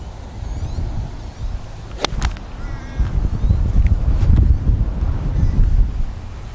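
Wind gusts buffet a microphone outdoors, producing a loud, low, rumbling roar that swells stronger in the second half, with a few brief knocks and rustles.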